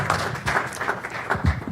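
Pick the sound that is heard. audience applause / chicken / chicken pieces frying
audience applause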